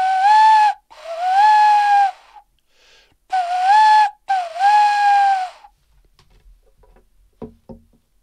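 A voice imitates an owl with four sustained hooting whistles, each rising then falling, in two pairs with short gaps, followed by quiet with a few faint taps.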